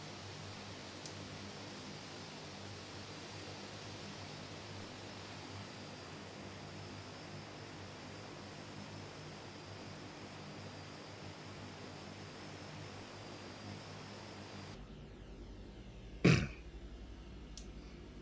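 Twin Otter aircraft engines idling on the ground in a flight simulator game, a steady loud droning roar with constant whine that cuts off abruptly near the end, followed by a single short thump.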